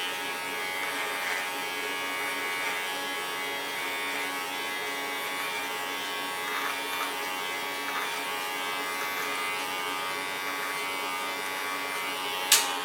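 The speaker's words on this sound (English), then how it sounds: "guide the hairs with my comb into the clipper blades" Electric hair clipper buzzing steadily at close range while cutting a short pixie haircut, the hair guided into the blades with a comb, a continuous even hum with a small click near the end.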